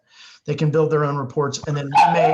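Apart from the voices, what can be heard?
dog barking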